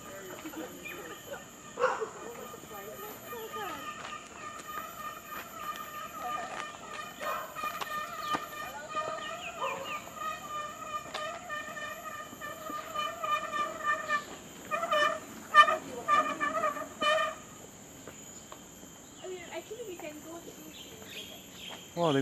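Birds kept at a house in a kampong chirp and call in repeated bursts, moderately near, with a dog barking at times and people talking throughout.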